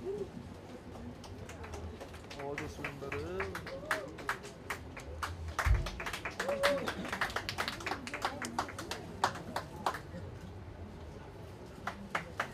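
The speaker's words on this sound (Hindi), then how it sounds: "Now please put your hands together for Jaswinder Singh" People at a book launch celebration clap for a guest: scattered, uneven hand claps that swell in the middle and then fade, under ongoing talk, with soft cooing and background chatter.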